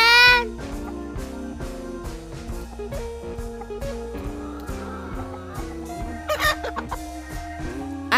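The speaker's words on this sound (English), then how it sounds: "H for hen" A hen clucks in short, bright bursts at the start and again near the end, set over a cheerful children's alphabet song with steady music throughout.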